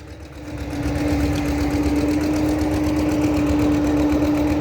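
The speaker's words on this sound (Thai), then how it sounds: "เดี๋ยวผมจะเร่งเครื่องสูบเพิ่มอีกหน่อย" A water pump engine revs up and then holds a loud, steady, droning run with a constant hum and rough mechanical chatter throughout.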